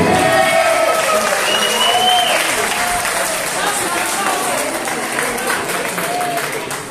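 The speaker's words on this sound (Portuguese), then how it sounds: "palmas, senhoras e senhores." Dense, loud applause from an award ceremony audience rolls steadily for several seconds with crowd murmur mixed in, easing slightly toward the end.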